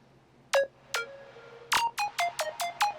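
Plucky synth notes patched in Sylenth, sharp bright attacks with short decays, two small rolling notes leading into each hit, then a quick run of plucks, close and clean.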